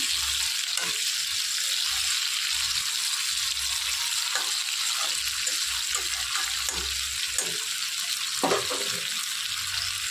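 Large, thick-cut potato chunks fry in hot oil with a loud, continuous sizzle, broken by repeated clattering stirs in the pan.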